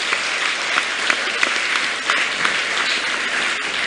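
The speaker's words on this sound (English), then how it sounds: "So those claps today are from the adults in this room" Adults in a room give students a sustained round of enthusiastic clapping, a dense steady wash of many hands lasting several seconds without talk.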